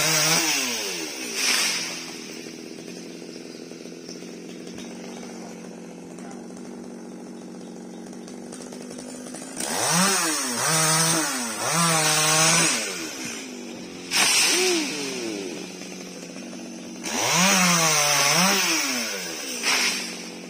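A chainsaw idles quietly, then revs up hard in several loud bursts as it bites into a mango tree being felled, its pitch rising and falling with each cut.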